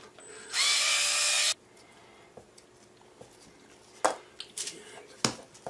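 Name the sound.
Black & Decker gyro drill drilling a hole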